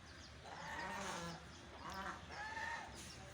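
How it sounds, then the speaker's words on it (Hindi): An Aseel rooster crows nearby in a long, strained call, with other fowl clucking and squawking against a steady background hum. "ये असील मुर्गा है।"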